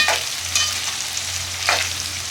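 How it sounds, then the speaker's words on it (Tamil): Mushrooms for a mushroom biryani frying in oil in a pan, a steady close sizzle with two brief bursts of stirring scrapes, no talking. "இது நல்லா ஃப்ரை ஆகட்டுங்க அதுக்கப்புறம் எடுக்கலாம்"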